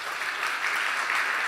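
A church congregation applauds during a New Year's Eve worship service at Samcheok Jungang Church, a steady, fairly soft wash of many hands clapping with no voices over it.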